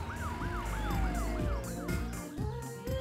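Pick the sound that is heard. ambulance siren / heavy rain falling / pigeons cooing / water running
ambulance siren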